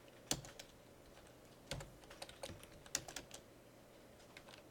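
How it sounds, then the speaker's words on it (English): Typing on a computer keyboard gives faint, close, irregular clicks and short bursts of key taps against quiet room tone. "that was a lot of typing"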